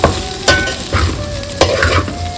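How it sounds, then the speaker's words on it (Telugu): Prawns frying in hot oil in a pan for a masala curry, a close, loud steady sizzle broken by a few sharp stirring scrapes and clatters. "ఇలా ప్రాన్స్ బాగా ఆయిల్లో ఇలా ఫ్రై అవ్వాలి."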